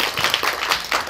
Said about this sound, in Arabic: برافو برافو أمو سليم، تصفيقة تصفيقة على أمو سليم.